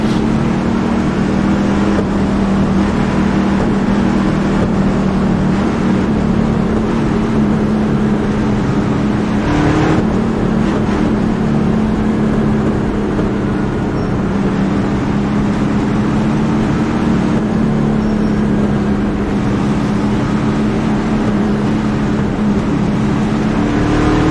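NASCAR Gander Outdoor trucks race at Talladega in iRacing, a continuous loud engine drone holding steady pitch throughout, with a brief swell near the middle and no talking.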